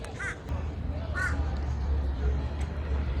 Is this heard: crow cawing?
yes